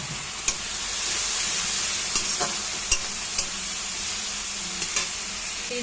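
Okra frying with turmeric and red chilli powder in a pan gives a steady, even sizzle, broken by a few sharp spatula scrapes and clicks as it is stirred.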